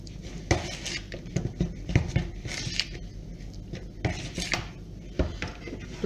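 Cake batter being mixed with dried apricots in a bowl: irregular close clacks and soft scraping strokes of the spoon against the dish, with no voices.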